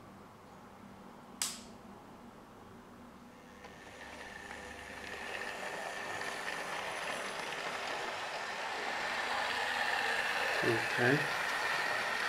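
A Hornby Duchess of Hamilton model steam locomotive with tender starts moving on the track, a faint electric motor whir gradually building into a steady rolling rumble with light wheel noise; a voice speaks briefly at the start.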